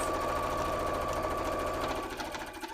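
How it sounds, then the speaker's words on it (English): A sewing machine stitches fabric for simple holiday crafts in a fast, even mechanical whir that runs close and steady, easing slightly near the end, with no voices. "I'll just take out the pins as I sew."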